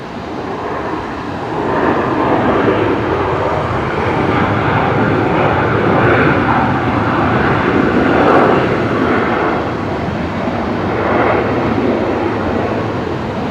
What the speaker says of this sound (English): Looks like we got the Velocity 73 just about to touch down.